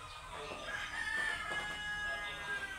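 Farm chickens cluck softly nearby while being fed chopped cabbage, and a rooster crows faintly in the background.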